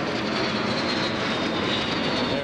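An L-39 Dolphin jet aircraft engine at an aviation festival gives a loud, steady, close broadband roar that holds without a break, with no voices heard.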